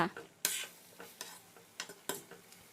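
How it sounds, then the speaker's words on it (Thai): Fresh garden vegetables are stirred in a pot of curry, with light scraping and clinking strokes at a loose, irregular rhythm over a soft simmer, close and moderately quiet. "ก็คือจะคนผักไปมาแค่พอให้ผักสุกค่ะ"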